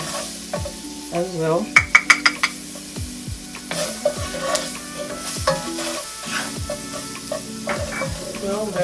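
Garlic and shrimp sizzle and fry in a pan for a curry, with a spoon stirring and scraping in repeated strokes near and clear, a voice speaking briefly over the cooking.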